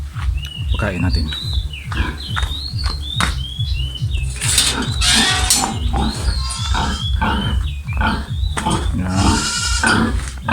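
A sow pig eats pineapple, grunting in quick rhythmic bursts up close, with high chirping bird calls overhead and a person talking nearby.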